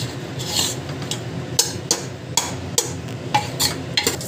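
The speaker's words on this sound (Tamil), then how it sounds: "நல்லா வந்து இது மாதிரி வந்து கலக்கி விட்டுக்கோங்க." Chicken stirred in a pan while cooking pepper chicken, with repeated close scraping and rubbing strokes in an uneven rhythm and no talking.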